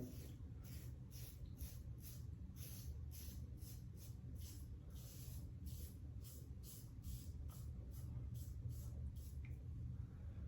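An Edwin Jagger DE89 double-edge safety razor scrapes across the grain of wet stubble in repeated short rasping strokes, about a dozen close, evenly spaced passes.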